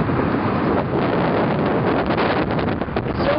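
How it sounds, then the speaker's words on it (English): Strong wind buffets the microphone in a continuous loud rumble and roar, gusting unevenly the whole time. "It's so windy out here."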